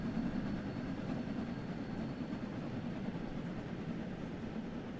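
A steam locomotive passes in Train Sim World 3, a steady low rumbling roar with rail noise that holds evenly loud throughout, with no voices.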